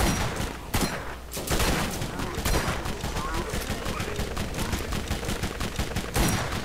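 Rapid bursts of automatic gunfire from zombie-mounted turrets in the shooter Borderlands, loud and sustained with short pauses between volleys.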